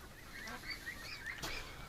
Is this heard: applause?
no